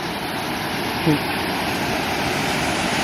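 Tham Phra waterfall in Bueng Kan, Thailand, a site with a water curtain and water slides, gives a steady, broad rush of falling water that fills the air without pause. A short burst of a voice cuts in once over it.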